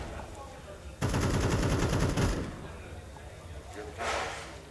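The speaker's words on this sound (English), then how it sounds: "Wallbang's coming in." Gunfire from the video game Counter-Strike 2 fires in a dense, rapid burst through a wall for about a second, followed by a fainter, shorter spray of shots later, heard during a LAN match broadcast.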